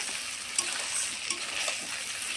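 Water pours into a pan of chicken curry with a steady, close splashing gush that lasts a couple of seconds, and no voices are heard.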